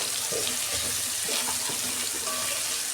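Chili powder and turmeric sautéing in a pan for a Bengali-style dal, giving a close, steady sizzle and hiss with faint scraping stirs running under it throughout.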